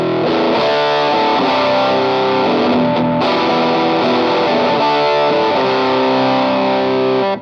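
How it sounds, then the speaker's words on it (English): Electric guitar played through the distortion channel of a Greenchild Tribus Drive pedal, with thick, saturated sustained chords and a brief gap in the middle, loud and alone. "So I can go on to this distortion sound that I was just using in the intro."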